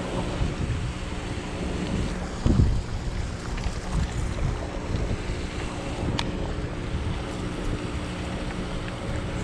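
Steady wind rushes over open water during bass fishing, a continuous broad roar buffeting the microphone with a few gusts and light splashy texture, no speech.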